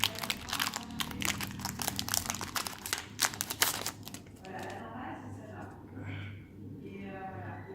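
A Magic: The Gathering Core Set 2019 booster pack is torn open, with close, dense foil crinkling for about four seconds before it settles into quieter handling and a low background hum.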